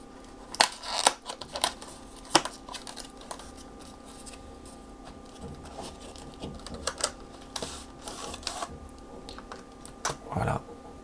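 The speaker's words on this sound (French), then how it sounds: "Ok, on va prendre le petit cutter." A small utility knife slicing open the packaging of a HaloLock iPhone 12 phone case, heard as a series of soft close scratches, snips and crinkly taps at an irregular pace, fairly quiet throughout.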